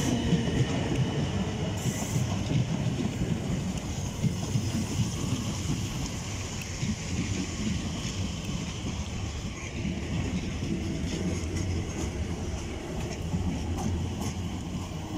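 A Class 455 electric train rolls steadily past at Clapham Junction, a loud continuous rumble of wheels and carriages with faint squeals, close and sustained throughout without talk.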